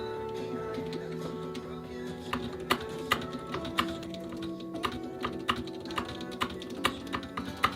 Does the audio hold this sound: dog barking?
no